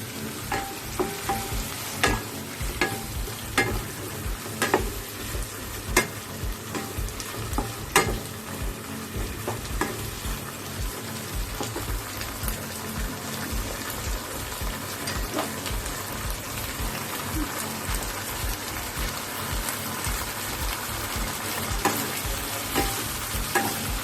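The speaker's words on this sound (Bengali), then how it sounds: "এবার এটাকে নাড়াচাড়া করব" Egg chilli frying and being stirred in a pan with black pepper, a steady close sizzle broken by frequent scraping and clattering stirring strokes, with no talking.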